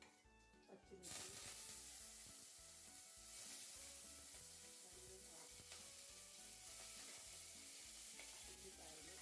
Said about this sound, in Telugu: ఆయిల్ వేడైన తర్వాత ఆవాలు, జీలకర్ర, మినప్పప్పు, శనగపప్పు వేసి కొంచెం ఫ్రై చేయండి